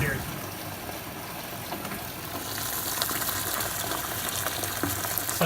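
Wort swirls in a home brew kettle during a whirlpool, a steady rushing, bubbling wash of liquid that grows slightly louder partway through, close and continuous with no clear talk over it.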